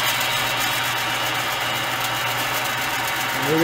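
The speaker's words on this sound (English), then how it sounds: "We'll go ahead and we'll turn on our lathe." A lathe motor runs while an eccentric spacer is machined, giving a steady, even mechanical hum and whir that is close and constant, with a slight rise right at the end.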